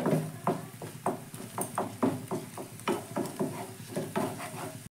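Bhujia frying in a pan while being stirred, a quick run of scraping, clacking strokes against the pan in steady rhythm over a faint sizzle, close and fairly loud with no talking.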